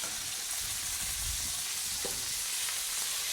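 Beef pieces browning in a hot pan for beef bourguignon give a steady, moderate sizzle and crackle with a faint stir near the end, no voices over it.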